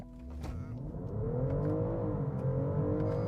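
A BMW X5 xDrive50e plug-in hybrid launches hard in first gear, its engine note climbing and swelling from inside the cabin into a steady, rising drone that holds for several seconds.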